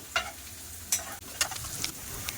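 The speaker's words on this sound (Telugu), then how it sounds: "ఇదే ఆయిల్లో ఆనియన్స్ యాడ్ చేసుకుందాము" Onions frying in oil for a broad bean and egg curry, with soft sizzling broken by a few sharp stirring scrapes and spatters, close and fairly quiet.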